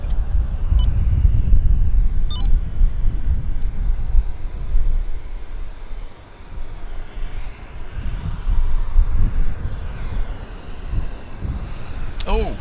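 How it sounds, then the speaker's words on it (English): A Canadian Forces military transport jet rumbles at Vancouver Airport, a loud low-heavy drone that dips midway and swells again, joined by faint higher whines. "It's a Canadian Forces C-19 or C-9, whatever the hell they call it."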